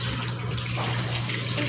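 Cold tap water running steadily into a laundry tub while a child's head is wetted for a hair treatment at home, a continuous close splashing wash with no talk.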